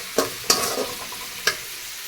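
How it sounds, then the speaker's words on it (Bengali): Tomato and onion fry in a pan, with a few sharp scraping stirs over a faint, quiet sizzle. "টমেটো পেঁয়াজটাকে ভালো করে ভেজে নেব।"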